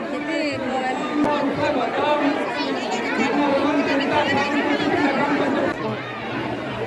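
Dense crowd chatter fills a busy temple gathering at a ceremonial milk-and-water offering to a deity, many overlapping voices murmuring steadily at close range with no pauses throughout.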